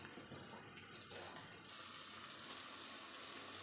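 Ginger, garlic, onion and tomato sauté in a pan for a curry, giving a faint, steady sizzling hiss that swells slightly partway through.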